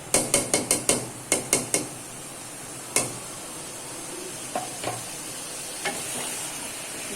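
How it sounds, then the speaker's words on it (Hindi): Chicken biryani with potatoes stirred by a spoon in a pot: a quick run of sharp metallic taps against the rim at the start, then a quiet steady sizzle with a few isolated knocks, close and with no talking. "आलू डाल के भी मैं इसको अच्छे से चम्मच चला लूंगी"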